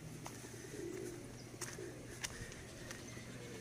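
Pigeons cooing softly in a civic plaza in Neiva, a few low, throaty coos over quiet ambient outdoor noise with occasional faint clicks and no speech.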